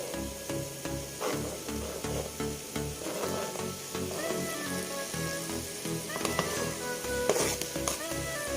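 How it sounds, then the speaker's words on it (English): Tomatoes go into a sizzling mutton curry made with plain yoghurt, a steady frying crackle with stirring scrapes running throughout, close and moderately loud. "At this point, I'm going to add the tomatoes"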